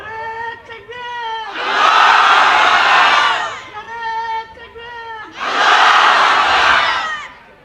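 A crowd at a Bengali waz sermon roars the takbir, two loud swelling bursts of massed shouting, each about two seconds long, with a single voice calling out before each.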